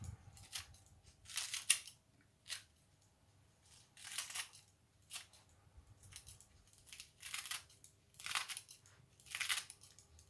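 Scissors snip lettuce in quick bursts, crisp crunchy cuts through leafy greens, spaced irregularly with quiet gaps between.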